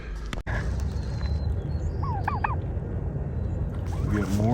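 Turkey toms on a small goat farm let out a pair of quick, rattling gobbles mid-clip, then another burst near the end, over a steady barnyard background.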